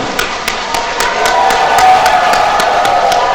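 An audience in a church hall claps hard and forcefully, a steady run of sharp, evenly spaced hand claps in quick rhythm, fairly loud and close with a murmuring crowd underneath.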